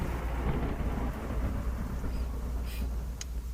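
Steady rain falls with a deep, low rumble of thunder underneath, an even, enveloping wash of noise with no voices.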